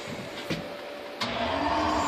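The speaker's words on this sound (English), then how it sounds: "Turn the fan on and let's see what we get here." The blower fan on a waste oil heater built from a wood stove clicks on and spins up into a steady, close whirring hum, following a brief click and a faint earlier knock, with no voices.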